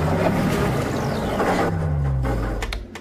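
A cartoon boat's propeller engine running at sea, with a steady loud mechanical hum and low droning tones that wind down near the end, followed by a few brief clicks.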